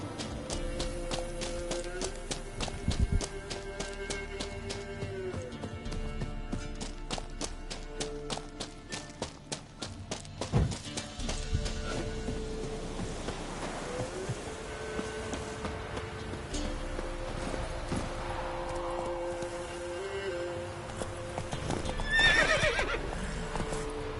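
Roach the horse in The Witcher 3 gallops in rapid, rhythmic hoofbeats, with several sharp neighs and whinnies rising over the pounding. The tempo eases midway, then picks up again under a faint game background.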